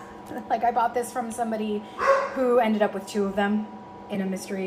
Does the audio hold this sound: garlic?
no